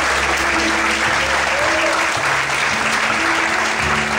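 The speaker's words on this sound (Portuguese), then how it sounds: "Quantos podem aplaudir ao Senhor?" A church congregation applauds steadily throughout, a dense, continuous wash of clapping with a faint low hum and murmur beneath it.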